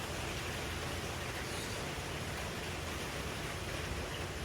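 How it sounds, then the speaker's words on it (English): Steady, even hiss of rain falling, constant and moderately loud with no other sounds standing out. "You can hear the rain coming."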